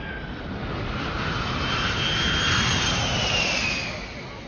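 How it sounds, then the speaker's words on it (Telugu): A passenger jet airplane takes off with a loud, sustained engine roar and a rising whine that swells and then eases slightly, heard without talk. "the flight is taking of"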